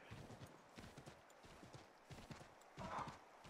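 Galloping horse hooves thud in a quick, steady rhythm in Assassin's Creed III Remastered, with a brief whinny near the end, fairly quiet and mostly free of talk.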